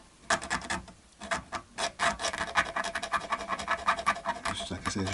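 Rapid scraping and rubbing close up as a tool works sticky residue off a vintage Stratocaster-style guitar body, starting in a few separate strokes and then becoming a continuous rasping scratch.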